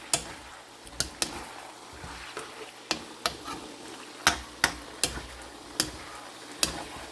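Crimini mushrooms cooking in a pan, with a steady low sizzle under repeated sharp utensil clicks and scrapes that come at irregular intervals, close and moderately quiet.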